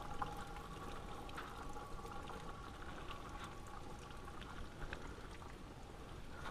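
Water from a garden hose, barely cracked open, trickles into a self-watering bucket planter, a faint, steady pouring and splashing that runs continuously without talk.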